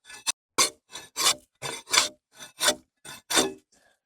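Bark being scraped off a green oak log, a series of about ten rough, rasping strokes in a steady rhythm, close and loud with silence between each pull.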